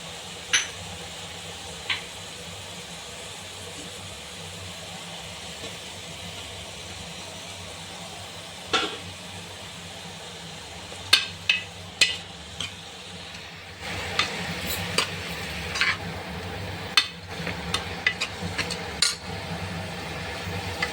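Chopped tomato pieces frying in a pan for a banana flower fry, a steady low sizzle with sharper spoon clinks and stirring bursts growing busier in the second half.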